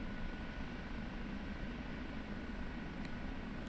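An OH-58D Kiowa Warrior helicopter flies in the DCS flight simulator, its engine and rotor giving a steady, even whine and hum at moderate loudness, with no talk over it.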